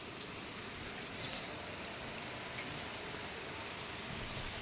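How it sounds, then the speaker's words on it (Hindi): Steady rain pours down in a continuous, even hiss with scattered drops pattering on surfaces, moderately loud and unbroken throughout. "वही देख सकते हैं बारिश फिर से स्टार्ट हो गई"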